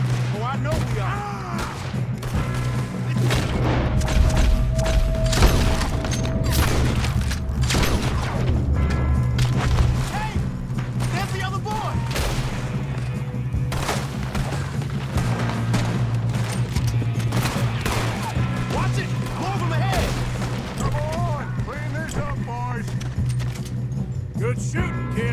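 Gunfire rings out during a train robbery in Red Dead Redemption 2, as repeated shots and booms over a constant low rumble of the moving train, with voices talking throughout.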